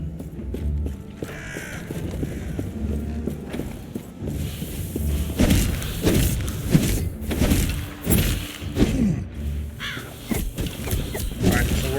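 Crows caw again and again in the game Last Epoch, harsh calls repeating over a busy bed of footsteps and combat noise, fairly loud and close and rising in the second half.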